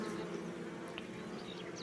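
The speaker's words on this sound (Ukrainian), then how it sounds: "Бджоли є біля вуликів, але не так багато." A steady, dense buzzing of many bees swarming around hives, continuous and fairly close, with no talking.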